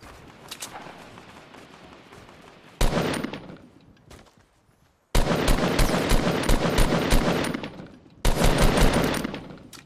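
Rapid automatic gunfire in a French-played battle-royale shooter, loud bursts of repeated shots with short pauses between them, alone with no talk.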